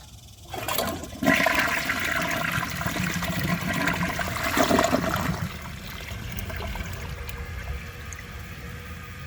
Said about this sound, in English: So anyway, I will show you guys a flush, and let's see how it does on tests.